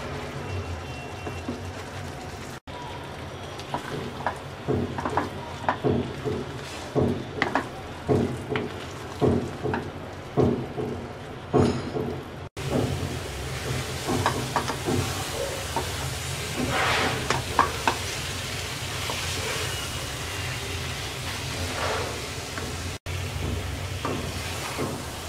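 Sweet olive pickle with sugar simmers in a pan over medium-low heat, giving a soft bubbling hiss broken by repeated scraping strokes of a spoon in the first half and then a steadier sizzle.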